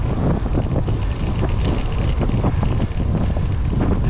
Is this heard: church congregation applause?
no